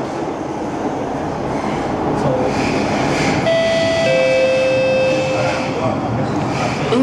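An East West Line MRT train pulls into Outram Park Interchange with a steady rolling rumble, and a clear electric whine rises partway through as it slows. A voice can be heard over it.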